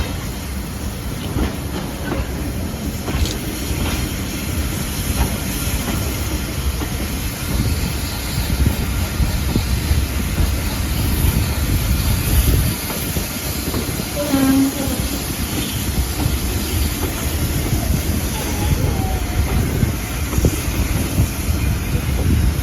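A steam train on the West Somerset Railway pulls into Bishop's Lydeard station, a loud continuous rumble with hiss and wheel clatter close by, buffeted by wind noise, with brief squeals as it slows.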